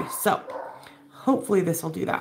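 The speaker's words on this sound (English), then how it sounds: "Sorry about my dog barking," A pet dog barks a few times in a room during a live oracle-card and astrology unboxing, short yips breaking in under and between a person's steady talk.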